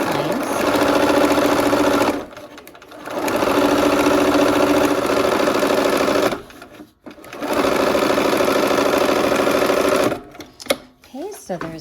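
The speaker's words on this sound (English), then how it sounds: "We're gonna go ahead and sew 1/4 inch on those lines." A sewing machine stitches quarter-inch seams along marked lines on a quilt block, running steadily in three long bursts with brief pauses between them and faint voice at the end.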